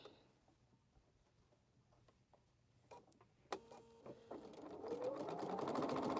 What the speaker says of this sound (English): just sew these little corners without breaking thread